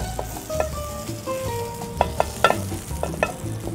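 A little oil heats in a very hot frying pan, crackling with a soft steady sizzle punctuated by several sharp pops and spits.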